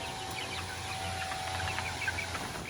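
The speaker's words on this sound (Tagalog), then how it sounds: "Nakagala pa diyang manok." A free-roaming chicken clucks softly on a small backyard mini farm, its short calls fairly faint and scattered over steady outdoor background noise.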